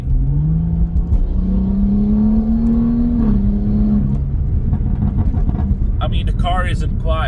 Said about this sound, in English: if I put the car in sport like now and I go a little bit higher in revs